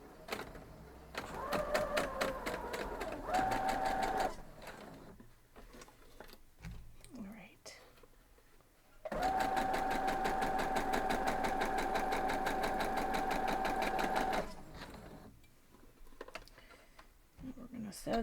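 A sewing machine stitching quilt block seams whirs in two sustained close-up runs, a short one early and a longer steady one in the middle, separated by quiet handling of fabric, with brief speech nearby.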